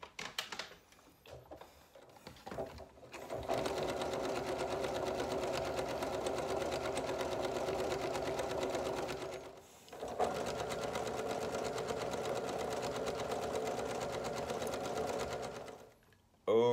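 A Janome Memory Craft 6600 sewing machine stitches a quilt display strap in a fast, steady mechanical whir that runs for about six seconds, pauses briefly, then resumes before stopping. A few quiet handling sounds come at the start.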